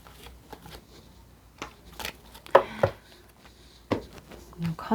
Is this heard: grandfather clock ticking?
no